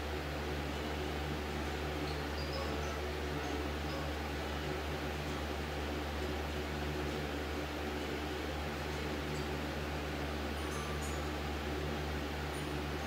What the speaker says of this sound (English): Sorry about the noisy fan.